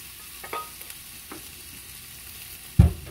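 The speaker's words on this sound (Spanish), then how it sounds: "Aquí voy a agregar el licuado que hice de tomate." Blended tomato goes into a hot pan of chicken and onions, with a low sizzle under a few soft scrapes and clicks, then a sudden louder splash and burst of sizzling near the end.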